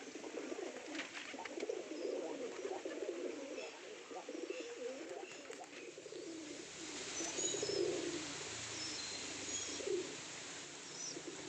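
Pigeons coo softly and continuously among bushes on a hillside, a low murmuring chorus of several birds with occasional wing flutters, fairly faint and steady throughout.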